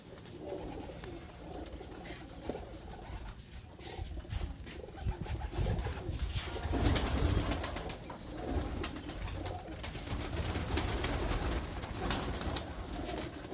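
Pigeons in a loft of flying birds, steady cooing from many birds close by over a continuous rustling background, with a couple of faint high chirps partway through.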